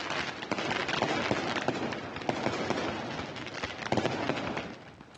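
Firecrackers crackle densely and continuously at a celebration in Assam, a loud, sustained barrage of rapid pops and bursts with no gaps.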